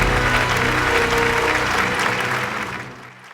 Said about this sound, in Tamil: கைத்தட்டலோட let's welcome evergreen star of Tamil television